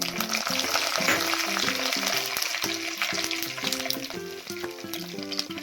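Mustard seeds spluttering in hot oil for an Indian tempering, a steady crackling sizzle close by, with rhythmic utensil taps and stirring clinks running through it and no voices.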